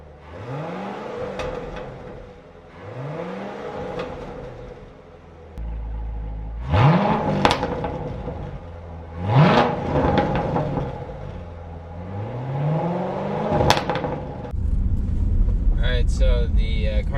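A Chevrolet C7 Corvette with a catless X-pipe exhaust revs repeatedly, each blip rising in pitch then falling back to a rumbling idle, fairly close and loud, with some wind noise.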